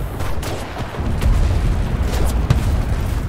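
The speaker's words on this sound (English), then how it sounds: "The constant explosions from the close air support, the artillery, the grenades, the mortars." Battlefield din from the video game Enlisted, with close air support, artillery, grenades and mortars: a continuous rumble of booms and distant blasts, with a sharper crack near the end, loud and dense throughout.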